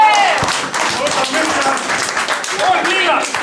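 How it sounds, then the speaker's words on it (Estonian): An audience claps steadily and densely throughout a men's puntratants dance at a 50th birthday celebration, loud and close, with voices mixed into the applause. "Teeme aplausiga midagi teha."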